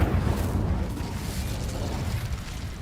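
A fiery spell explosion in Hogwarts Legacy roars as one dense, continuous low rumble with crackling texture, loud and close, sustained for a few seconds without speech.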